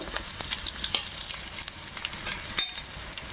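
Chana dal and dried red chillies frying in a pan, a steady sizzle with stirring scrapes and small crackling pops running throughout, close and moderately loud, with no talking.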